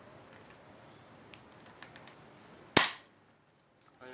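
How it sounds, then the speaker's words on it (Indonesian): A spring airsoft MP9 (MP900/M9A1) pistol fires a single BB pellet with one sharp, loud snap amid a quiet room; a faint click follows near the end. "Tembak lagi ke sana."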